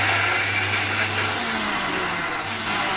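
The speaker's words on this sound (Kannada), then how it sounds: "ಈಗ ಇದನ್ನ ಹಾಗೇ ಒಮ್ಮೆ ಮಿಕ್ಸಿಲಿ ತರಿಯಾಗಿ ಮಾಡ್ಕೊಳ್ಳೋಣ." A mixer grinder crushes jackfruit pieces in a kitchen, giving a loud, steady motor whir that runs throughout with a slight dip in the middle and no talking.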